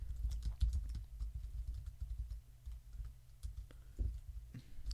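Quiet, irregular keystrokes tapped on a computer keyboard, a short run of light clicks with small gaps over a low background hum.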